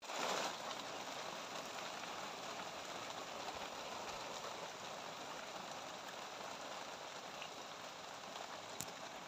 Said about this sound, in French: On a un orage encore, ouais, ça tonne, il pleut